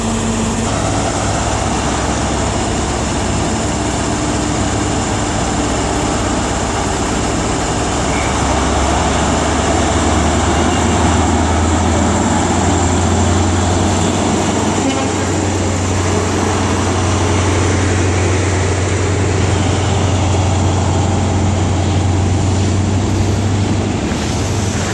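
A Great Western Railway train with power car 43144 at the front runs at Exeter St David's in the evening, a steady, loud diesel engine drone and rumble that holds for the whole stretch without any talking.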